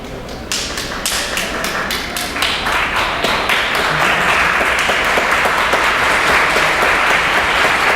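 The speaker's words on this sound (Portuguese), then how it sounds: "Os aplausos ao vivo, então, né?" Loud live applause with sharp individual claps at first that build into steady, dense clapping from a crowd, continuing to the end without talk.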